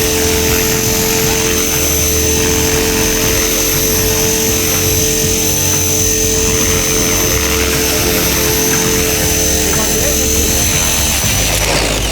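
A home-built radio-controlled helicopter on its first test flight roars loudly and steadily throughout, a dense whining rotor and motor drone that holds close and constant with no pauses.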